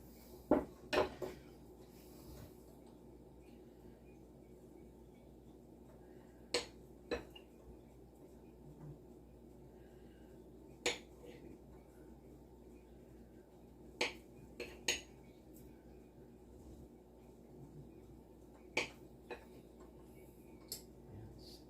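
A knife cuts canned Spam into six slices on a board, giving a run of sharp, well-spaced taps and clicks over about twenty seconds against a quiet kitchen background, with no talking.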